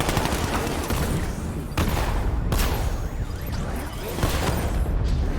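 Sustained video game gunfire from Batman: Arkham Knight, dense bursts of shots and rattling fire layered with booms, loud and continuous throughout with no pauses.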